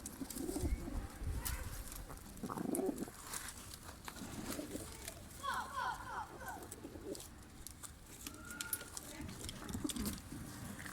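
Soft pigeon coos rise and fall in low, rounded phrases over a steady outdoor hum, with a few faint chirps and rustles mixed in.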